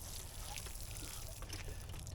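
A garden hose fitted with a small shower head sprays water onto a raised bed, a steady, soft hissing patter that holds evenly throughout at close range.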